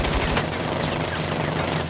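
Sustained loud gunfire from the video game Saints Row, a dense continuous automatic barrage with crackling shots throughout.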